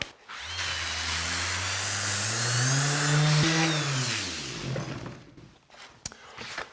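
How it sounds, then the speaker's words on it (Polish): A power sander whines and grinds steadily against an old wooden military crate, its pitch rising and falling, then cutting off into a few small knocks. "Sprawdźmy teraz, jak wyjdzie nam to samą szlifierką"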